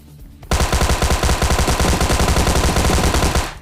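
Rapid automatic gunfire blasts in a battle royale shooter match, a sustained loud burst of closely spaced shots running for about three seconds after a brief quiet start, with no talking.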